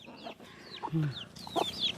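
Chickens clucking and squawking close by in short, choppy bursts, with a faint voice in the background.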